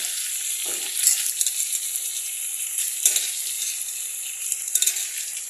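Eggplant frying in a pan, with fish to follow, a bright continuous sizzle, close and steady, with a few soft stirring knocks and bubbling bursts.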